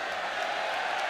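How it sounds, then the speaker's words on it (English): A boxing crowd at the Chris Eubank Jr vs Omar Siala bout, cheering in a steady, dense roar for a brief moment. "Crowd getting into it"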